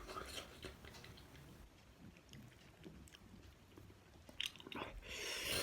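Quiet wet chewing and biting of fish with fresh vegetables such as tomato and carrot during an eating session, close to the microphone with soft crunches and faint background noise, no talking.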